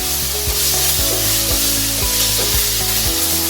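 A spoon stirs one spoonful of ginger garlic paste frying in a pan with sautéed vegetables for veg handi, loud steady sizzling broken by regular scraping strokes about twice a second, with no talk.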